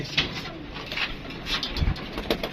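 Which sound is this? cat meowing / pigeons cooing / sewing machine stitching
pigeons cooing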